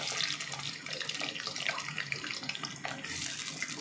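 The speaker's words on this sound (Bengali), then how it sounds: "আলুগুলো ছাড়ছি, আলুগুলো সুন্দরভাবে ভেজে নেব।" Potato pieces fry in hot oil in a wok, giving a steady, dense sizzle that holds at an even loudness with no voices.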